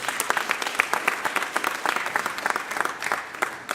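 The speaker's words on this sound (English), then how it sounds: "Another round of applause for the freshman who is not new," An audience applauds Councilwoman Cherelle Parker at a Philadelphia small business announcement, a dense, steady roar of many hands clapping continuously throughout.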